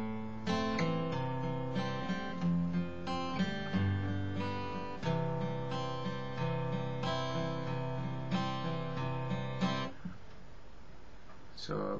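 Acoustic guitar picking out root notes of the chords for a song, close and steady with ringing sustained notes, ending in a brief, noisier fade.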